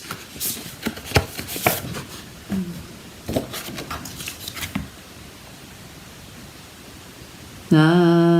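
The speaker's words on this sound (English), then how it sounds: "Now I'll cut a new sheet." Scissors snip and slice through a sheet of paper in several quick irregular cuts close by, followed by quiet background hiss, then a sudden harmonic tone at the end.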